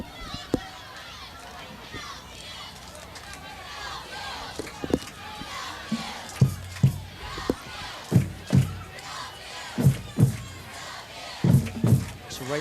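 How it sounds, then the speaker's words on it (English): A crowd of high school football fans cheers and chants in a stadium during a Plymouth Whitemarsh game against Upper Dublin. Rhythmic thumping shouts rise in repeated bursts over a steady crowd murmur, and an announcer speaks over it. "as the fans are cheering"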